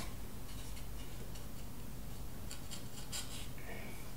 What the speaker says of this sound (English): pulling away this material